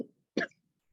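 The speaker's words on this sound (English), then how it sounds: "Coughing's part of it too." A single short, harsh cough bursts out close by after a faint breathy sound, followed by quiet.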